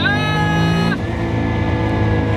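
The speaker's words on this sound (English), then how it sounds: "I've never driven anything with a fender exhaust, and you can just hear it spraying everything out the side" A Nissan 300ZX with an RB26DETT engine and fender-exit exhaust roars loudly under acceleration, its engine tone holding high and then dropping as it shifts, with a brief exclamation from a person.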